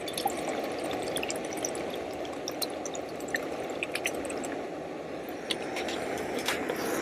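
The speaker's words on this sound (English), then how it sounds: "It's a 650 milliliter pot, and we're going to put the same ½ liter into this pot." Half a liter of water is poured into a 650 ml backpacking pot, a steady close-up splashing and trickling stream with scattered drips and small sloshes throughout.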